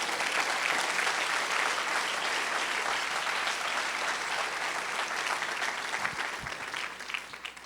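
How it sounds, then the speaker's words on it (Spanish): A church congregation claps loudly and continuously, a dense, even wash of many hands that holds steady throughout before thinning slightly at the very end. "¿Alguien puede darle un aplauso fuerte al Señor?"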